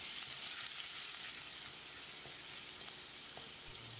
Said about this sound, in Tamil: ஒரு கொத்து கருவேப்பிலையும் சேர்த்து ஒரு 10-20 செகண்ட் இதை பிரட்டி விட்டுடலாம்.